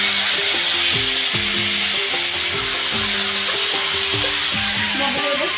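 Rice is tipped into a pan of frying potatoes and jackfruit seeds for khichuri and stirred, giving a repeated rhythmic scraping of the spoon against the pan over a constant loud sizzle of hot oil, with no talking.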